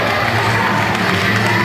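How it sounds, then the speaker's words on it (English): A loud crowd at a live wrestling event roars and cheers continuously for a tag team, dense and close throughout without a break. "And I think you can hear some of them in the crowd right now"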